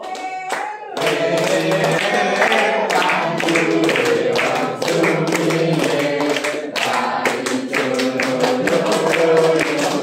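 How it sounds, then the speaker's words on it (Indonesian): Audience applause with hands clapping in a school classroom gathering, a steady, dense patter of many hands sustained for several seconds after a brief quiet start, with tonal music-like sounds mixed in. "Beri tepuk tangan dulu Bapak Ibu."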